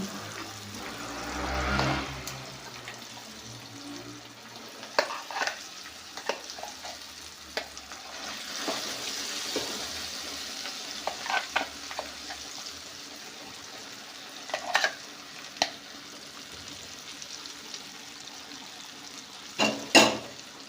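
Blended tomato chutney fries gently in oil over a low flame, a soft continuous sizzle broken by occasional stirring scrapes and clinks, close and quiet with no talking.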